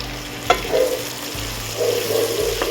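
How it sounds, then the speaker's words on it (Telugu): Spiny gourd (boda kakarakaya) pieces frying in a generous amount of oil, a continuous close sizzle with a sharp clink of a utensil and some stirring, no voices. "ఇప్పుడు ఓపెన్ చేసి కలబెట్టుకొని చూద్దాం ఫ్రెండ్స్. ఫ్రై అవుతున్నాయి."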